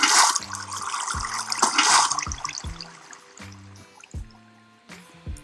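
Water being removed in a block-building video game, a burst of splashing, flushing water at first that thins into trickles, with game music notes plinking underneath.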